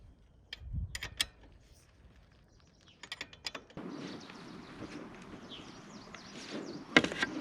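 Oil filter cap bolts on a Royal Enfield Himalayan are tightened, with close clicky ratcheting bursts and metallic taps, followed by a steadier mechanical rasp.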